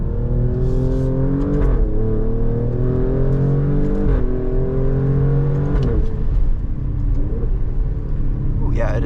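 2024 Alfa Romeo Giulia Quadrifoglio on a race track, engine loud and close as it revs up through the gears in repeated rising pulls with shift breaks, a voice talking over it.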